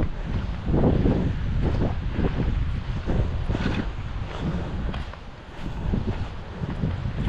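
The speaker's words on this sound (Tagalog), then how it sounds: "Lakas ng hangin." Strong wind blusters across an outdoor calamansi orchard, a steady loud roar buffeting the microphone with gusty surges and no talk.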